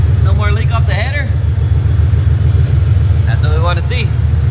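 A Ford Coyote V8 swapped into a car runs at a steady, loud, low idle rumble, close and continuous, while people talk over it.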